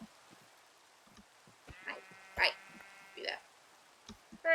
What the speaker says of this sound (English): Sheep? Are there any sheep around?